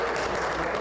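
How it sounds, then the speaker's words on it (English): Audience applause at an election debate, a brief, dense burst of steady clapping from a crowd, loud and continuous without pause. "A round of applause for her again"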